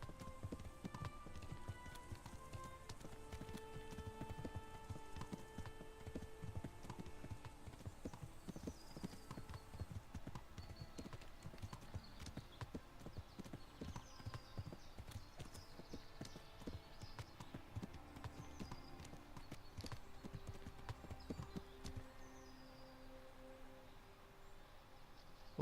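Steady clip-clop of horse hooves at a gallop in the video game Kingdom Come: Deliverance, continuous and fairly quiet, with a faint occasional whinny and light background music.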